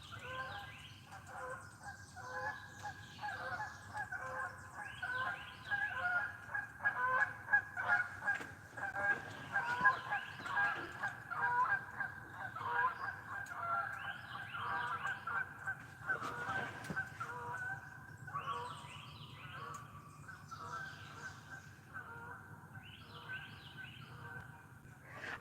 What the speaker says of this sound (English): I hear the geese coming from that way.